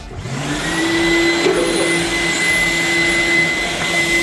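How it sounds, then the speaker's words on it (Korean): An ordinary upright vacuum cleaner runs steadily at close range, a loud continuous motor whine with a strong airy roar and no pauses, alone without talk. "일반 진공 청소기도 한번 보여드리도록 할게요."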